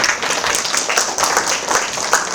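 An audience at an academic society's autumn international conference applauds to welcome a presenter, a steady, dense patter of many hands clapping in a hall that carries on evenly throughout.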